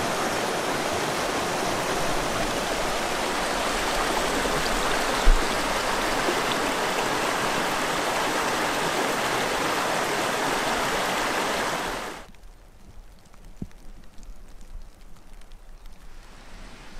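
River rushing over rocky ground on a countryside walk from Millstreet to Kealkill, a loud, steady broadband roar of flowing water that cuts off abruptly near the end, leaving only quiet outdoor ambience with faint knocks.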